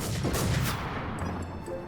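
A rapid burst of several loud gunshots close together in the video game Infestation NewZ, followed by a few sharper cracks, with a low rumbling boom underneath.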